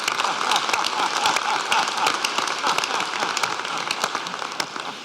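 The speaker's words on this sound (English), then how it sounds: "give yourselves a round of applause" Graduates at a spring 2017 graduate commencement ceremony clap for themselves, a loud, sustained wash of applause in a large hall with crisp individual claps throughout.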